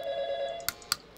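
A telephone rings in the Five Nights at Tinky's video game, a steady electronic tone ending in two short bright bursts, alone and fairly close.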